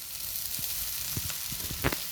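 Flattened rice poha tipped into a hot iron kadhai crackles with a steady close sizzle, broken by a few sharp pops and scraping stirs.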